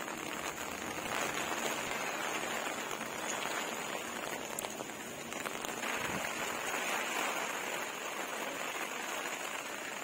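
Steady rain falls outside a hotel room in Nainital, a dense continuous hiss of drops on surfaces holding an even level for the whole stretch, with no voices.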